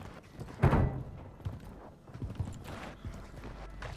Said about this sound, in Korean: 다른 발소리인가?